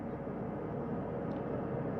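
A helicopter flies overhead during an astronaut crew recovery at sea, a steady dense rotor and engine roar that holds constant and fairly loud throughout, with no voices.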